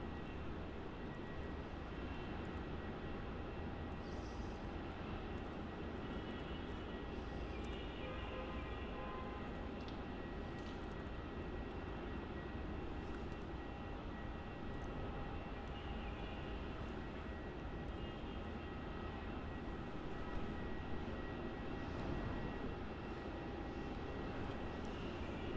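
An airliner engine at Melbourne Airport, Australia, a steady distant jet roar droning on without a break, faint and far off, with no talk.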